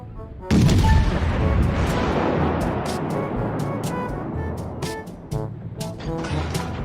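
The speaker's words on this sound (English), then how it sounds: "we're laying down serious continuous fire on that Japanese BB" Heavy naval guns fire continuously at a Japanese battleship in World of Warships. A loud booming salvo opens with a long rumbling decay, followed by repeated sharp shot reports at irregular intervals.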